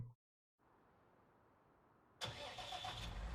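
A tractor engine starts in the video game Farming Simulator 19. A low rumbling hum after a brief silence gives way to a sudden loud catch as the engine fires and settles into a steady, heavy idle.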